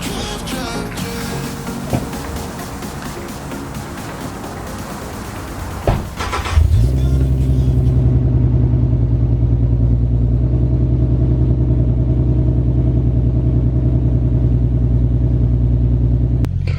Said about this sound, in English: that's the exhaust setup just on a cold start, no revs